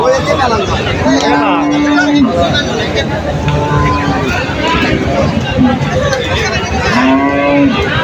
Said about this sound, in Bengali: প্রচুর গাই বাছুর এইগুলা কিন্তু বিক্রি করার জন্য নিয়ে আসি